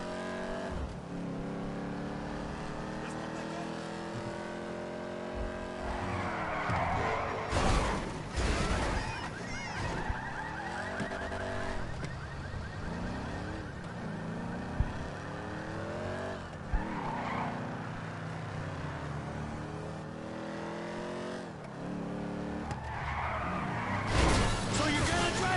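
Car driving in GTA 5, an engine revving up and down with repeated tire squeals and skids, loud and continuous over about twenty-five seconds, with people talking over it.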